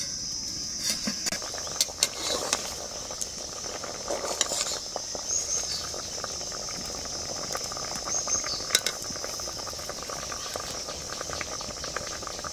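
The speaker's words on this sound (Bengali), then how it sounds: "আমগুলোকে ভালো করে সেদ্ধ করে নিতে হবে" Raw mangoes boil in a covered pot in a village kitchen, giving a steady soft bubbling hiss with scattered small clicks and light metallic taps, while a high insect-like buzz runs faintly throughout.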